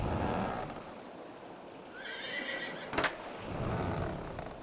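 A horse whinnies in The Road to El Dorado video game, a loud drawn-out neigh over a rumbling ambient bed, with a sharp knock partway through.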